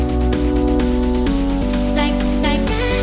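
A future bounce build-up made in FL Studio Mobile, with a chopped repeating vocal sample over synths and quickening rhythmic hits, dense and loud for a few seconds.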